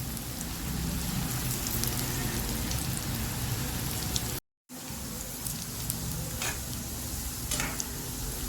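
Spinach (vallarai keerai) bondas frying in hot oil, a dense, loud, close crackling sizzle that runs almost unbroken apart from one brief cut, with no voices.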